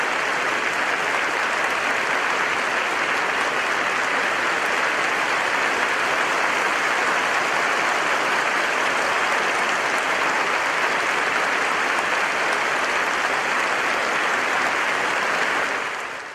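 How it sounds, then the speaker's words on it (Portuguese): A church congregation applauds in praise, dense and continuous clapping that fills the room at a strong steady level for the whole stretch before cutting off at the end. "Um aplauso para o Senhor, um forte aplauso para o nosso Deus."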